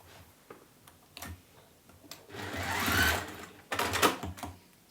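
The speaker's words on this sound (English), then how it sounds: "and then just sew across" A sewing machine stitches across fabric on a bear wallet project, starting with a few scattered clicks and then running a loud, close burst of rapid stitching before pausing and starting again.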